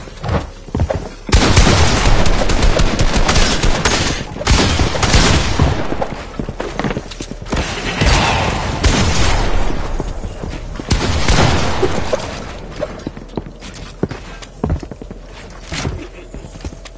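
Pumpkin launcher firing in a video game, a run of loud booming shots and gunfire-like bursts that continue through most of the stretch, with clattering, hoof-like steps in between.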